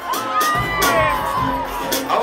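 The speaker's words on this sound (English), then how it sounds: "All my ladies, can I hear you scream please if you're having a good time?" A crowd of women at a bashment birthday party screams and cheers loudly and continuously, with shrill whoops rising above the roar at close range.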